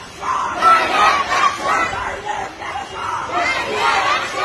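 A large crowd chants slogans in loud, rhythmic, massed voices that rise and fall steadily throughout.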